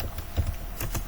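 Keys clatter on a computer keyboard in a short burst of several close taps, sitting over a steady background hum.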